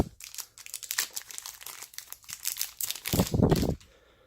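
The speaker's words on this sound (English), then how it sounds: "Let me just unwrap this here for you." Plastic packaging around a Fire TV Stick remote is unwrapped up close, a few seconds of crinkling and rustling that ends in a louder crunch before going quiet.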